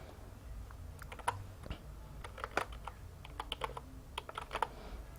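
Typing on a computer keyboard during graphic design work in Photoshop, a close series of irregular key clicks in short bursts with quiet gaps between them.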